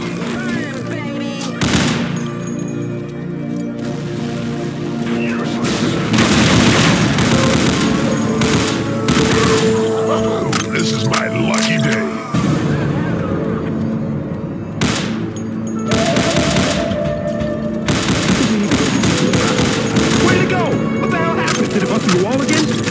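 Gunfire from Unreal Tournament 2004 with the Ballistic Weapons mod in a team deathmatch, dense bursts of shots and booms over continuous loud game noise, with talk mixed in.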